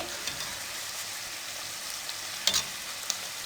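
Chicken samosas fry in oil over a medium flame with a steady, even sizzle, broken by a few sharp pops and light clicks near the end.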